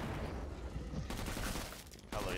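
Gunfire in the Killing Floor 2 video game, fired from a hard-kicking sharpshooter rifle: a dense, steady burst of shots that runs almost the whole time and stays loud and close, with a brief dip near the end before firing picks up again.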